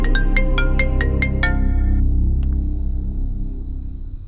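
A phone rings in a home, repeated short electronic tone bursts in a steady rhythm for about a second and a half, then stops, with a low hum of background music continuing underneath.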